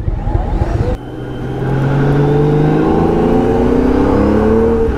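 A yellow Honda Gold Wing motorcycle engine idles nearby, then settles into a smooth, loud hum that rises slightly in pitch after a brief dip near the start.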